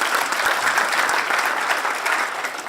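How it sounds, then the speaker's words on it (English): A conference keynote audience at Agile Korea 2018 claps for the live translators. The applause is dense and steady, with full-room clapping lasting nearly three seconds. "Let's give a round of applause to those translating right now,"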